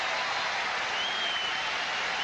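Steady applause from a stadium crowd at a 1990 US Open tennis match, a continuous dense patter of clapping with no individual voices standing out.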